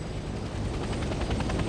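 A helicopter arriving in the video game Hell Let Loose Vietnam, its rotor thumping loud and close in a steady, pulsing drone.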